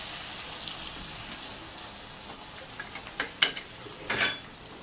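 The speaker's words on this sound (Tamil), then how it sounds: "வெங்காயம், தக்காளி, பச்சை மிளகாய் எல்லாத்தையும் அதிலே போட்டுருங்க. போட்டு நல்லா கிண்டி விட்டுருங்க." Onion, tomato and green chili frying in a pan, with faint sizzling and a few scrapes and clinks as the mixture is stirred, growing slightly louder toward the end.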